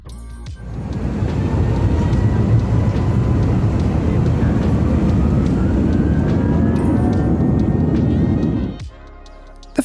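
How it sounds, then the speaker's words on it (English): A Turkish Airlines Airbus A350 pushing back from the gate, heard from inside the cabin as a loud, steady low rumble with faint whining engine tones rising, continuous for nearly nine seconds before cutting off. "Pretty soon we were pushing back from the gate and getting on our way for the first flight of the night."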